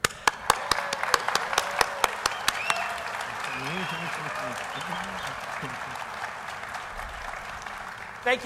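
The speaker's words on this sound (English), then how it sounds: "A special round of applause for our guest, reciter, singers" An audience at a DrupalCon Denver 2012 conference session claps, sharp distinct claps at first giving way to a softer spread of applause, with a voice talking over it in the middle and end.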